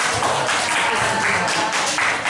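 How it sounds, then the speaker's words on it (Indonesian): Steady applause from a crowd, continuous dense clapping that holds at an even level throughout. "Beri tepuk tangan dulu."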